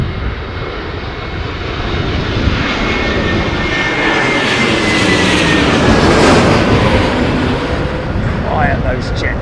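Jet airliner landing at Heathrow Airport in gusty, blustery storm winds, a loud sustained engine roar with whistling tones that swells slightly as it passes close by and then eases.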